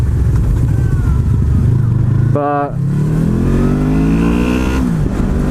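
The engine of a 2015 Honda VFR800X Crossrunner motorcycle while riding, a steady droning hum with a rising rev partway through, heard under wind and a voice.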